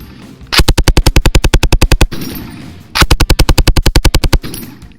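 FN MAG general-purpose machine gun fires two loud, close sustained bursts of rapid, evenly spaced shots at a steady beat, separated by a brief pause.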